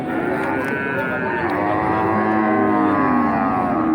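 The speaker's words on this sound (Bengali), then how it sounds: "গরু তো অনেক বড় গরু" A large cow at a cattle market lets out one long, loud, close moo that fills the whole moment, with faint market noise beneath.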